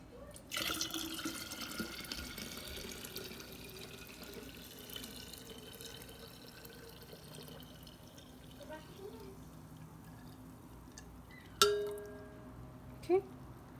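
Warm liquid poured into a jar while making double-fermented kombucha, a steady soft trickle with drips near the end and a few clinks of the jar, close and quiet.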